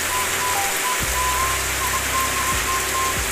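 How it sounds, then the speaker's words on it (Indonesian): Steady rain falls outside a house in the rainy season, a constant close hiss of drops over a faint low rumble, with no voices. "Tadi mah hujan wae."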